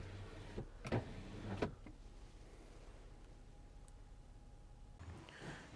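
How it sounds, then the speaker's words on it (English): The power sliding rear window of a 2022 Ford F-150 Lariat pickup runs with a faint electric motor whine for about two seconds, preceded by a few soft clicks and thumps in a quiet cab. "as well as your power sliding rear window."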